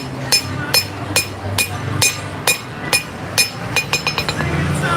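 Rounding hammer strikes hot metal on an anvil at an outdoor farmers market forge demonstration, a dozen sharp ringing blows at a steady pace that quickens into a rapid cluster near the end, loud and close.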